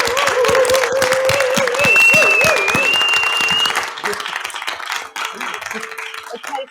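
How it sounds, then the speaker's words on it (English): An awards ceremony audience at a European knowledge festival breaks into loud, sustained clapping that then thins out, with cheering, whistles and a few voices mixed in. "Claps, please."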